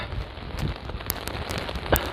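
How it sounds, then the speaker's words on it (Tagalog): Steady medium rain patters on surfaces nearby, with a few sharper drops and splashes standing out from the continuous hiss. "yung ganito lang siyang umuulan yung medium lang"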